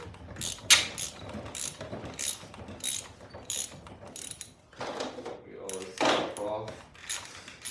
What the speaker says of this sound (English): trying to get these carb bowls off here